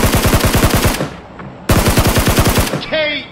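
Loud automatic weapon fire in Peacekeeper Elite, a desert island battle royale: two rapid bursts of closely spaced shots separated by a brief gap, followed by a short warbling game effect at the end.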